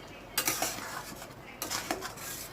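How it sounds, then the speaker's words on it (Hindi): Pointed gourd (parwal) pieces are stirred while frying in a pan, giving two bursts of close spoon scraping and clinking against the metal over a faint background hiss, with no talking. "तो इसे हम देखिए बीच बीच में चलाते रहेंगे"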